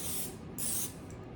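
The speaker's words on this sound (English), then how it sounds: "I'm going to spray a little bit more canola oil right on the top to get the spices something to hold" Canola oil sprayed from a can onto salmon fillets: two short bursts of hiss, close and fairly loud, separated by a brief pause, with no talking.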